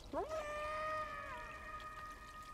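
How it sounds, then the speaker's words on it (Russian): Cat meowing in the video game Stray, a single drawn-out rising then steady mew, fairly faint and alone against quiet game ambience. "О! Мяукают."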